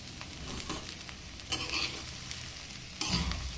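Rice coated with turmeric powder frying in a pan for khichuri, a low continuous sizzle broken by a few louder stirring scrapes, close and without talk.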